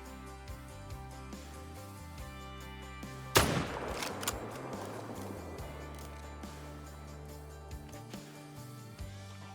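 A single sharp rifle shot fired at a deer in the Call of the Wild hunting game cracks loudly mid-clip and echoes briefly over a quiet background music bed.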